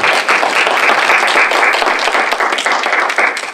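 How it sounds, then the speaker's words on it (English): An audience at a council candidate forum applauds, a loud, dense burst of clapping from many hands that holds steady before starting to fade at the end. "Let's give a round of applause to our candidates."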